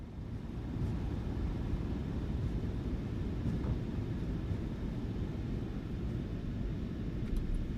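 Thrust reversers roar as a PMDG 737-800 in Gol Airlines livery decelerates on landing in Microsoft Flight Simulator 2024, a loud, steady low rumble that holds unbroken from start to finish.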